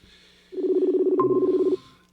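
A single steady telephone dialing tone sounds clearly for over a second, with a brief higher beep partway through, in otherwise quiet surroundings.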